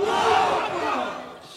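A large crowd roars a response to a takbir call at a religious rally, a loud and sustained mass shout that fades slightly toward the end.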